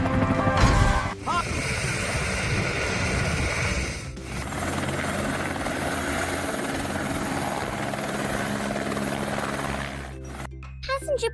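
A heavy lift helicopter flies with a loud, continuous rotor and engine roar that carries on through most of the clip, while a voice speaks over it near the start.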